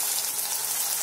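Water gushes steadily into a pan of cowpea masala (chavli rassa bhaji) with a continuous bright pouring hiss, close and unbroken throughout, with no talking.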